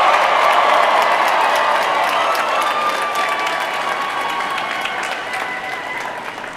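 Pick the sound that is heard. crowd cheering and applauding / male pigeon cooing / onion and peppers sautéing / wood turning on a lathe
crowd cheering and applauding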